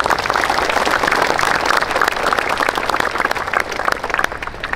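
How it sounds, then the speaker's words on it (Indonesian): Steady, dense applause from a large crowd at a National Education Day ceremony, loud and continuous throughout with many overlapping claps and no pause. "Tepuk tangan."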